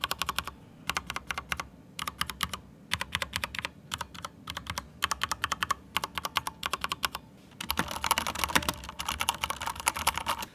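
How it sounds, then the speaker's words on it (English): Rapid clicking of keys on a non-thocky computer keyboard in quick bursts with short pauses, then a denser, louder stretch of typing near the end, picked up by a Sennheiser Profile USB microphone. "This keyboard isn't thunky at all, but you guys can hear how it sounds like."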